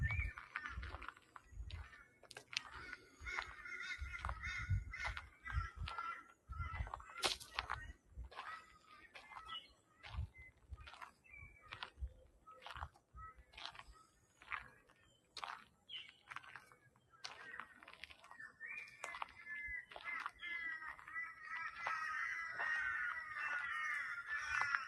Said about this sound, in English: The bird calls have changed.